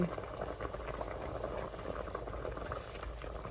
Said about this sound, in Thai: หมูเดือดเต็มที่แล้ว